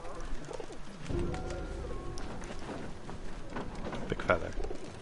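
A bird coos softly in the video game Valiant Hearts amid background noise and speech, with a brief sharper call near the end.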